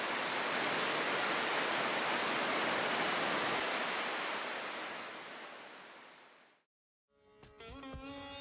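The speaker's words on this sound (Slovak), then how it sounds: "Hovorí sa, že vodopády Uzúd patria medzi najkrajšie v Afrike." The Ouzoud waterfalls in Morocco roar as a dense, steady rush of falling water that fills the scene for several seconds, then fades out and cuts to a quieter passage with faint other sounds.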